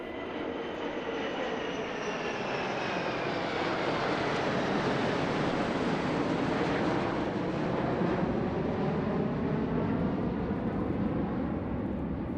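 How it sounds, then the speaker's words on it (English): Military aircraft from Singapore and Indonesia fly past at an airshow, a loud sustained jet roar with a steady sweeping rush that holds for the whole stretch, no voices over it. "this impressive series of flypasts featuring aircraft from Singapore and Indonesia is being presented to the leaders of both countries"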